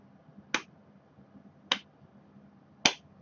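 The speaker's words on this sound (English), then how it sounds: "Abbott gives it a most elegant golf clap" Three sharp, quiet claps spaced about a second apart, a polite golf clap from a single person, close and isolated against near silence.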